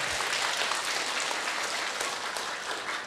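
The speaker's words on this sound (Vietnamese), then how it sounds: "Nói chuyện thích vỗ tay hoài ha." Audience clapping during a Buddhist dharma talk in Vietnamese, a dense, continuous patter of many hands filling the hall for a few seconds, fairly loud and with no voice over it.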